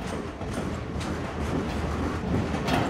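A train rolls along the tracks in the city at night, producing a steady, dense rumble with faint rhythmic clatter throughout, fairly loud and continuous with no talking.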